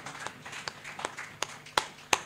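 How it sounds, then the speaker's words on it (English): Sparse, scattered claps from an audience at a Media Alliance of Zimbabwe event in honor of Honorable Mangwana, a few distinct sharp hand claps over a quiet room. "Ladies and gentlemen, a round of applause for Honorable Mangwana."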